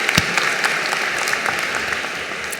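Audience applause fills a university commencement ceremony, a steady dense wash of clapping from a large crowd with a few sharper claps standing out near the start.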